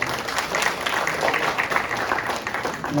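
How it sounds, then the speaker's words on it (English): An audience at a school end-of-year program gives a round of applause, a steady, moderately loud patter of many hands without pause. "round of applause to everybody"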